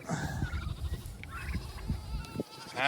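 Sheep bleat during farm chores on a working farm, several wavering calls overlapping near and mid-distance amid a busy outdoor background, loudest at the end.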